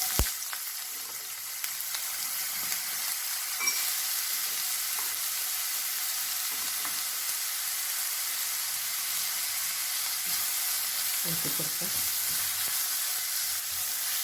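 Sunflower oil sizzles in a hot pan for Kannur chicken dum biryani, a continuous close frying crackle with a few sharp stirring clinks and no talking.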